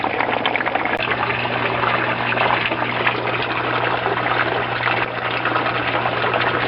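A water pump circulates water through an aquaponics system with clay and gravel grow beds draining into a fish tank, giving a steady, close rushing and trickling flow over a constant low hum.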